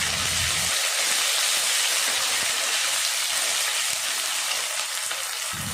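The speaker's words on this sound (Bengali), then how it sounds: "সাথে আছে জিরে, কাঁচা লঙ্কা, আদা রসুন বাটা, সব কিছু ভালো করে এখন আমি কষে নেব" Cumin, green chili and ginger-garlic paste sizzle in hot oil in a pan for mung dal, a continuous bright frying hiss with a few soft stirring knocks and no voices.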